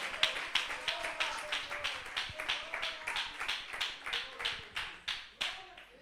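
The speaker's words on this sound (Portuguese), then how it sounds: "Podem bater as palmas para o Senhor" A church congregation claps in a quick, steady rhythm, each sharp hand clap evenly spaced, faint and unaccompanied by speech.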